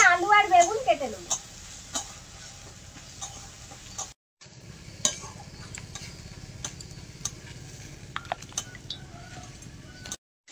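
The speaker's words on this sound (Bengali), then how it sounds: "আর রসুন আর কাঁচা লঙ্কা চেরা একসঙ্গে ভেজে নেব।" Garlic and slit green chilies frying together in a pan, a steady sizzling hiss broken by clinks and scrapes of stirring, with a brief voice at the start and a short gap midway.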